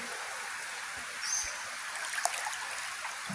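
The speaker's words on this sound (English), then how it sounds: "There's a bit of a current here too." A natural stream current flows steadily at a bathing spot in Nimbin, heard as a continuous close rushing and trickling of water. No one speaks.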